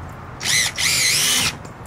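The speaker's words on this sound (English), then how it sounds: "I'm gonna drill one" A power drill fitted with a hole saw bites into a bathtub being turned into a pond, two close, loud whining bursts with a brief pause between them.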